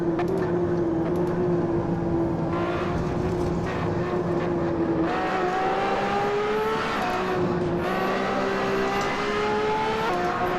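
Race car engine in the sim racing game Assetto Corsa, driven with no assists, droning steadily with a sustained tonal whine that rises and shifts through gear changes and revs, loud and continuous with no talking.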